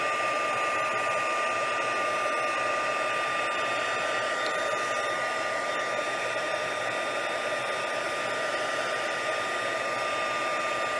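A heat tool blows steadily and alone without pause, a constant loud whirring hiss of hot air melting embossing powder on a stamped card.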